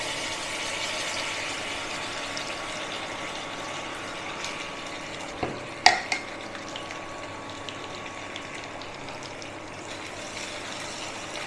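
Cumin seeds frying in oil as a prepared spice paste goes in for a coriander-flavoured black chickpea dish. The pan gives a steady, moderate sizzle, broken by a brief clatter midway.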